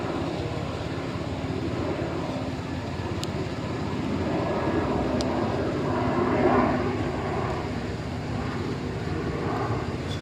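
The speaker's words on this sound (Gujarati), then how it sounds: "વિમાન જાય દોસ્તો, વિમાન જાય." An airplane passes overhead above a farm field, a steady broad drone that swells slightly toward the middle and then eases, with wind and ambient outdoor noise throughout and no talk.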